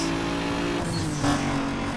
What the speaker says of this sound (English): It's a little blow-off valve effect.